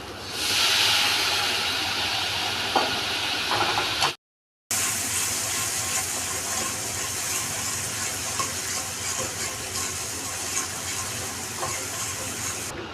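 Water splashed into a pan of spices frying with Kashmiri chilli, turmeric and sugar hisses loudly and steadily, a broad sizzle that continues strongly after a brief break.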